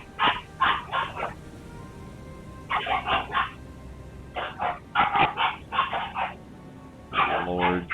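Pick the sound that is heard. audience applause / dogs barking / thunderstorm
dogs barking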